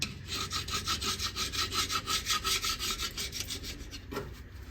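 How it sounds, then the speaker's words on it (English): A scraper is worked steadily back and forth over the underside of a barn-find Sprite's cylinder head, making a rapid, even run of close, rasping strokes with no pause until the end. "I need to get the underside of the head cleaned up as well. So I'll use the super scraper again."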